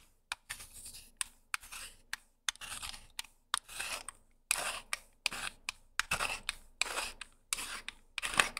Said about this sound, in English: we'll go ahead and unscrew our brass piece again